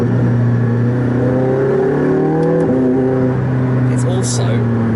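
A McLaren 675LT engine in sport mode revs close by, a strong rising drone that drops sharply partway through before settling into a steady hum, with someone talking over it.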